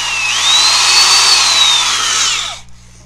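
An old Milwaukee power drill runs at full speed with a loud, steady high whine for about two and a half seconds, then spins down and cuts off.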